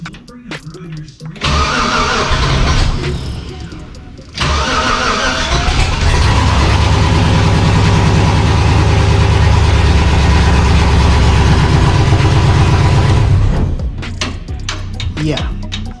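A 1966 Chevrolet C10 truck with loud mufflers cranks, falters briefly, then fires up and settles into a loud, deep, steady idle close by before revving down near the end.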